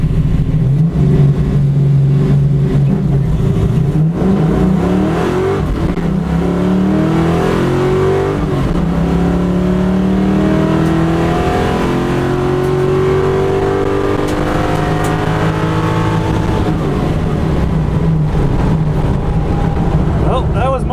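A Ford drag car, driven for the first time at a Ford Fest grand champion event, roars loudly and steadily down the strip, its engine climbing through gears and rising in pitch toward the rev limiter at the end.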